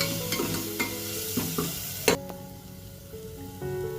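Ground spice paste frying with chopped onion in oil for a chicken ukadi soup, a quiet sizzle punctuated by a few scraping stirs and clinks of the spoon against the pan.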